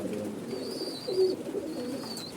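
Pigeons coo steadily in a loft with chicks, soft rolling calls overlapping close by, with a faint high whistle above, and no voices.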